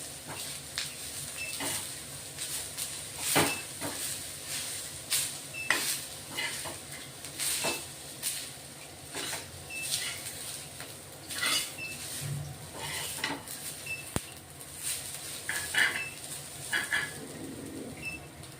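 Grated dry coconut sautéing with onions in a pan, a steady close sizzle broken by repeated sharp scrapes and clinks of stirring, with no voices.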